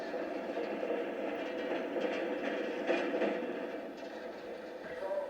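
An excursion train on a narrow-gauge railroad rounds a sharp 20-degree curve at Birdseye, producing a steady rolling rumble with soft rhythmic clatter of wheels on track, heard from close by.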